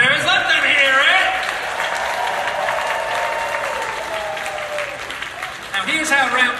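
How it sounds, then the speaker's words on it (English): Sustained audience applause at a SakuraCon 2023 competition event, a steady dense wash of clapping from a crowd with cheering voices mixed in, swelling again near the end. "Let's give a round of applause for all of our competitors."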